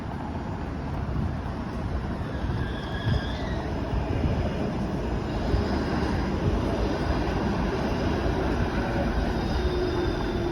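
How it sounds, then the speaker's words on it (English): A Bombardier Flexity Outlook streetcar rolls along Dundas Street East in downtown Toronto, a loud steady rumble of wheels on rail with faint squeals that lasts throughout, heard close by on the street. "There's the Bombardier Flex V Outlook streetcar."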